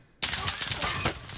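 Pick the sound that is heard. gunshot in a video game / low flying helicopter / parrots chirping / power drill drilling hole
gunshot in a video game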